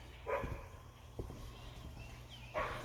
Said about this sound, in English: the dog is already barking